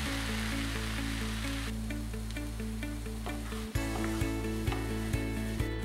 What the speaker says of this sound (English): Now we add some grapeseed oil to the pan and prepare to sauté the onions. I'll then add the portobello mushrooms